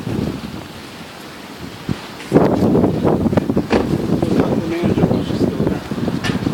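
Strong windstorm gusts roar outdoors, starting as a low rumble then surging into loud, sustained buffeting against the microphone, with people talking faintly underneath.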